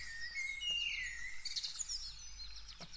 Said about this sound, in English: let's turn our birds down a little bit more then.